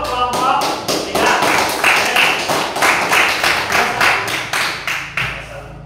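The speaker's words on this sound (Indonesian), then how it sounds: "Tepuk tangan untuk kelompok 3." Classroom applause for a student group, close and loud rhythmic clapping in quick repeated bursts that keeps an even beat throughout.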